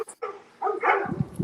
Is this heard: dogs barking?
yes